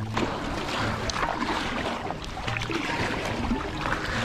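A small triangular boat paddled across water, giving steady close splashing and sloshing with wind noise throughout, no voices.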